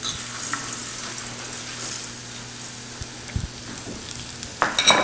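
Mushrooms and wild rice fry in a pan set on an outdoor grill, a steady close sizzle with occasional clinks and scrapes of stirring, a low constant hum underneath and no talking.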